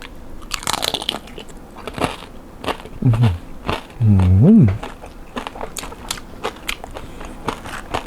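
Crispy roast pork skin is bitten and chewed up close, giving sharp crunches and crackles in a few bursts. A short vocal murmur of enjoyment is heard between bites.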